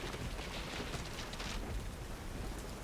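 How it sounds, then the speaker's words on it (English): Wind and rain battering down on a haunted house on a hill during a storm, a steady dense roar of downpour with gusting wind, faint and distant, continuous throughout with no voices. "you are hearing a lot of wind and the rain battering down"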